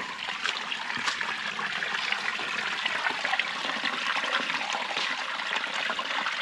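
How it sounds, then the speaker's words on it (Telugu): Water rushes and splashes inside a cave in a steady, dense roar that fills the space evenly from start to finish, close and unbroken. "ఇక్కడ నుంచి వాటర్ సౌండ్ అయితే క్లియర్గా వినిపిస్తాయి"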